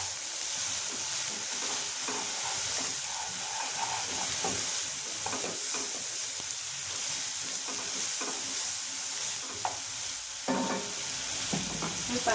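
Turmeric and garam masala stirred in a hot pan for Kathiyawadi dhokli shaak: a continuous soft sizzle with intermittent scraping and clinks of the spoon, close by and moderately quiet, without any talking.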